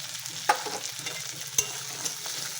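Green chillies, onion, tomato and peas frying in oil with cumin and dried red chilli, a soft steady sizzle broken by a few sharp clicks of a spoon against the pan, no talking.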